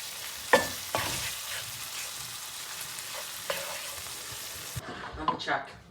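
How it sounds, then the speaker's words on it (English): Beef nacho sauce cooking in a pan, a soft steady sizzle with a few scraping stirs and spoon knocks against the pan, close and without voices. "Now just turn it down to a simmer and simmer there for about 5 to 8 minutes until this is thickened."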